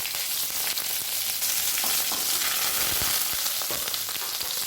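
Finely chopped ginger fries with cumin seeds and curry leaves in hot oil, a constant dense sizzle with scattered pops and crackles, close and steady, with no talking.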